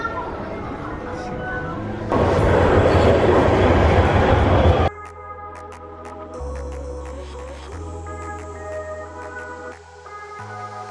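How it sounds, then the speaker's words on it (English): A Beijing subway train rumbles loudly for a few seconds, then gives way to a quieter stretch with musical tones over the background. "Taking a subway there now."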